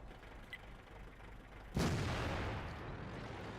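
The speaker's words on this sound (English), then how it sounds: "Arty's trying to throw some rounds at us." Artillery rounds landing near a tank in World of Tanks: a single sudden loud boom strikes partway through, followed by a sustained roaring rumble that slowly eases, with low background noise before it.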